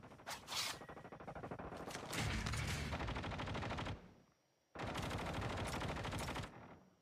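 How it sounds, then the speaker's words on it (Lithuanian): Rapid bursts of automatic gunfire in Call of Duty rattle loudly in long sustained volleys, broken by a short pause before another long burst. "Matau kažką šaudo, bet nematau ką."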